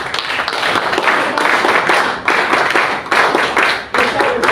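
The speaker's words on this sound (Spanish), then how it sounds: "recibamos las fuertes palmas a todos" An audience at a lecture on APRA ideas gives strong applause, a dense, loud wash of many hands clapping in surging bursts that rise and dip several times.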